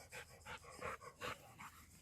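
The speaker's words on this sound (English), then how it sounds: "And there's Lee's dog, all excited to get on the grass" An excited dog pants rapidly and close by, a quick rhythmic run of breathy huffs, faint and alone with no voices.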